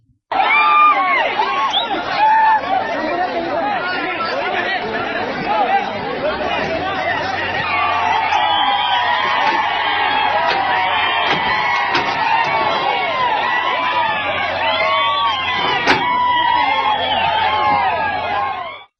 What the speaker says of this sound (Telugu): తండోపతండాలుగా వచ్చి కేరింతలు కొట్టారు